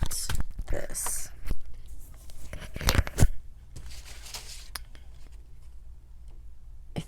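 Scissors cut a stencil in a run of close, sharp snips and crisp paper rustles, busiest at the start and tapering toward the end.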